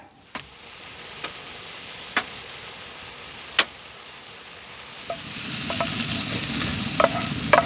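Mushrooms and onions frying in a pan inside a hot tent, with steak about to go in; a steady sizzle swells louder toward the end, dotted with sharp clinks of a utensil stirring against the pan.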